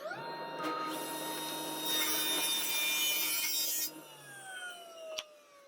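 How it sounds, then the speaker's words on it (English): A table saw cuts wood. The blade whines as it spins, a loud, rough, hissing cut through the board follows, and then the motor winds down with a falling tone. It is close, with no talking. "make those cuts right here at the table saw"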